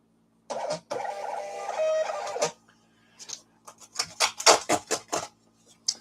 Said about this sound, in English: Let me use my label printer.